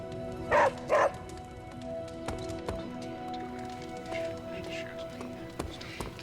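A dog barks twice in quick succession in the Midnight Suns video game, sharp and fairly close, over a steady low musical hum with faint scattered game effects.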